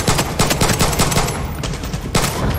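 Rapid automatic gunfire in the Far Cry 6 shooter, a dense, loud stream of cracking shots with steady rhythm and a few sharper bursts, continuous throughout.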